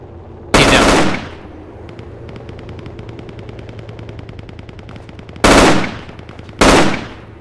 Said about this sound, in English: gunshots in the hill to the south